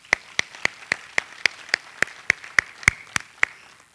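Applause at a commemoration ceremony for the Orangeburg Massacre: a steady, evenly spaced run of single sharp claps, fairly close and alone, without a full crowd wash.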